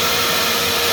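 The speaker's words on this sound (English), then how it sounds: "it's sucking every bit of the fumes out, okay? It's stronger than your normal little," A homemade indoor paint booth exhaust fan for model cars runs steadily, giving a loud, even rushing whoosh of moving air with no pauses.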